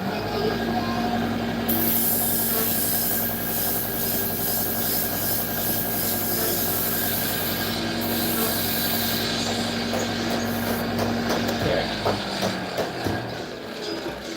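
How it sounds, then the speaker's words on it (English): Wood sanded by hand with higher-grit sandpaper gives a continuous, close rubbing rasp with steady back-and-forth texture and a constant hum beneath, without speech. "we'll hit it with higher grit sandpaper, just like the other stuff"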